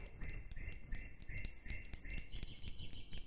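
Birds chirp outdoors in a quick, regular series of bright, repeated calls over a low rumbling background, fairly close and clear throughout.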